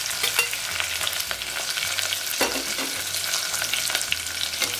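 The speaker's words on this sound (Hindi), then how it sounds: "ऑनियन को कलर चेंज होने पर अच्छी तरह से फ्राई कर लेंगे।" Onion with green and red chilli frying in a pan: a steady, dense sizzle with scattered crackles and occasional scraping stir strokes, close and continuous throughout.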